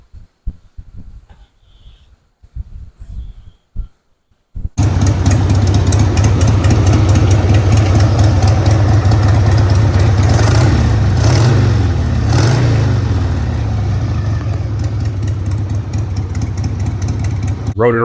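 A Harley Sportster motorcycle engine starts after a few quiet clunks and then runs steadily and loudly up close. The idle is a rough, throbbing rumble, with a couple of brief swells that sound like light throttle blips.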